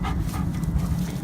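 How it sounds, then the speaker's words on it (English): Neighbor's dogs outside whimper, pant and yip, a continuous, fairly loud dog sound filling the short moment with no talk over it. "the neighbor's dogs are outside"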